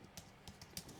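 Typing on a computer keyboard, a handful of soft, quick key clicks in an uneven rhythm, faint and close, with no talk.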